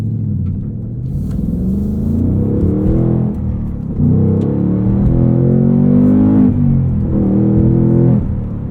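A 2022 Ford Mustang Mach 1 with a manual gearbox, handling package and valved exhaust drives along. Its loud, close engine rumble runs steadily for the whole stretch, with revs swelling and easing several times.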